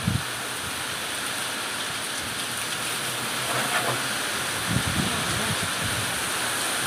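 Heavy stormy rain pours steadily in windy weather, a dense continuous hiss that stays loud and even throughout with a few brief knocks near the start and middle.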